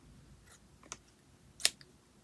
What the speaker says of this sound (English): I have my super sharp scissors now.